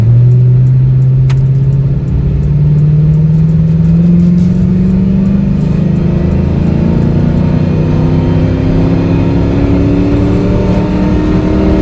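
A SEMA truck accelerates hard from a stop up a hill, its engine note climbing steadily and loudly through one long pull from inside the cab, with no talk.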